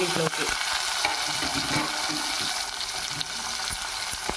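Cut omelette pieces frying in a spicy masala curry with curry leaves, a loud close sizzle broken by scraping and stirring clatter throughout, with no voices.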